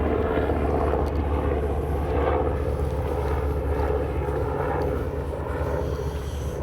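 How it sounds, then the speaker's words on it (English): A helicopter flies over wooded country near a guard camp at night, a steady, broad rotor and engine drone that stays fairly loud and constant throughout. "There's a helicopter flying. Probably can hear the noise,"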